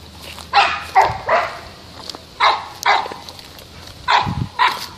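Several dogs bark in short bursts, about six barks in loose pairs spread across five seconds, moderately close outdoors on a cleared yard where roosters are also kept.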